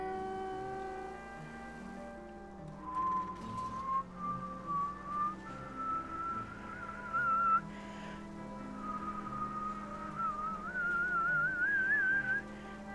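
A person whistles a wavering melody over a steady background of game music and ambience, the tune drifting up and down in pitch and starting about three seconds in; moderately loud and continuous, with no talking.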